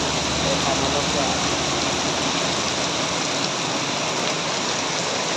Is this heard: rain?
yes